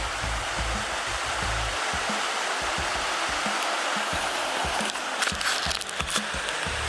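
Steady roaring rush of a waterfall pouring down a straight-walled rocky canyon creek, loud and continuous throughout, with a few brief knocks and scrapes toward the end.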